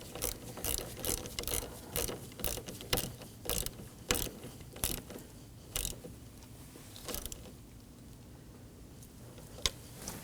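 A ratchet with a 10mm socket snugs down the negative battery terminal on a 2015–2023 Nissan Maxima 3.5L V6, with quiet, irregular clicking bursts that fade to stillness and one last click near the end.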